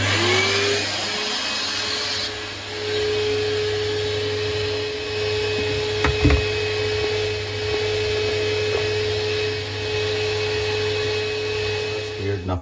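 A Bosch/Siemens dishwasher with an E-24 drain fault hums steadily after being switched on, a constant mid-pitched motor whine with a faint high tone, broken by a brief thump or two, heard alone up close.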